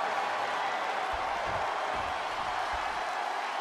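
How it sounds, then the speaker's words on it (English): An arena crowd in the wrestling video game WWE 2K22 roars as one continuous dense wash of cheering. It stays at a fairly even level with a few low thumps underneath. "sound of this crowd is deafening"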